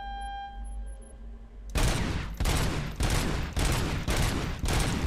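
Gunfire in the RoboCop: Rogue City video game bursts in after a quiet tone-filled lull, a series of about six loud, close shots or short volleys in a steady rhythm.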